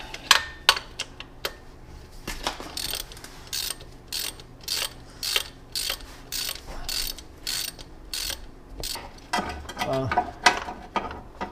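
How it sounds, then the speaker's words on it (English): A hand ratchet clicks in repeated bursts while transmission bolts come off a Porsche Boxster 986, a series of quick, close ratcheting runs with short pauses between them and no talk. "Ratchet now."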